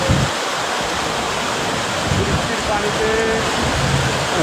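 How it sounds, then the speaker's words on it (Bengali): Heavy rainwater rushes along a road during a downpour, a steady, dense, close wash of flowing water and rain that continues unbroken throughout. "রাস্তায় প্রচুর প্রচুর বৃষ্টি বয়ে যাচ্ছে বৃষ্টির পানি"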